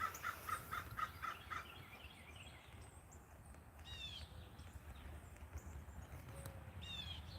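Crow cawing outdoors at dawn, a short run of about six quick harsh calls at the start, moderately close, followed by a few fainter scattered calls against steady low background noise; no talk.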